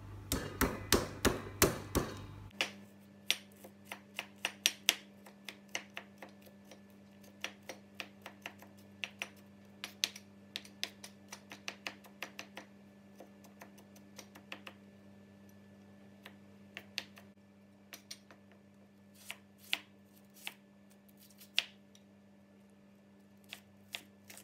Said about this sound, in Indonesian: Bawang putih dan bawang bombaynya dicincang halus.